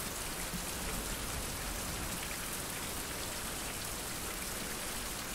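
Steady rain pours in the video game Survival Fountain of Youth, a dense, even hiss of drops on surfaces that continues unbroken at moderate loudness.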